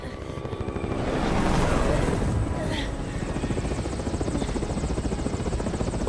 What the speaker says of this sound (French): Voilà, c'est là, il y a un hélicoptère du coup.